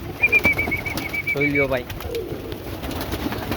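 Marwari pigeons at a water dish coo softly and low in a busy setting, mixed with a thin whistle-like tone and someone talking nearby.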